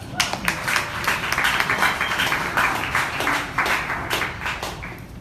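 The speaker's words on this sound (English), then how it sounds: "Give him a round of applause, guys." A crowd claps in a steady burst of applause at a travel industry summit in New York City that fills the whole stretch, dense and moderately loud, tapering slightly near the end.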